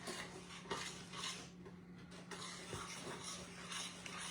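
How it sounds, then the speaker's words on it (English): Faint scraping and clinking as a spoon stirs a sugary cereal mixture in a pot on a stovetop, with soft irregular knocks against the metal and a low steady hum underneath. "No, I'll stir it on the stove."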